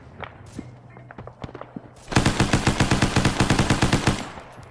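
Rapid automatic gunfire from the Arma 3 military game erupts after a couple of seconds of scattered clicks and thumps, a dense, loud burst of evenly spaced shots lasting about two seconds.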